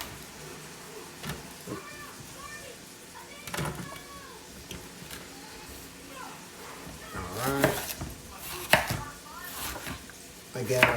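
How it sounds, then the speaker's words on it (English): Vegetables, sweet peppers and shallots, being chopped with a knife on a board for a lentil and spinach stew, with scattered irregular knocks that cluster more densely toward the end, set against kitchen background noise and some talk. "So let's chop this up"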